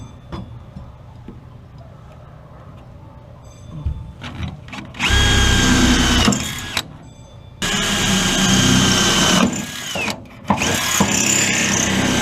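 A power drill bores holes in a pick-up truck bed to mount a Hi-Lift jack with brackets, starting after a quiet stretch with loud, close bursts of whirring and grinding, a brief pause, then another long drilling run.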